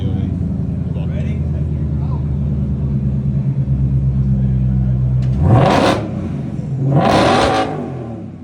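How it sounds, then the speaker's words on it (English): A Ford car engine idles with a steady low rumble, then gives two sharp revs in quick succession, loud and close, as people talk over the idle. "He's gonna rev it if you want a video of it."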